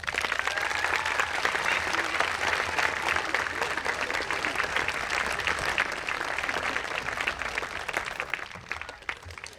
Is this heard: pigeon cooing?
no